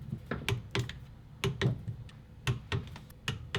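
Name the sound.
torque wrench clicking at 18 foot-pounds on KX250 bolts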